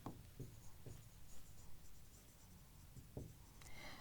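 Pen writing on paper, close and quiet, with a few distinct scratchy strokes spaced out across the moment and soft rustling between them.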